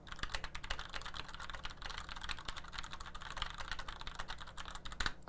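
Rapid, steady typing on a Rosewill RK-9100BR mechanical keyboard, dense clicky keystrokes continuing for several seconds, close and fairly quiet, with no voices.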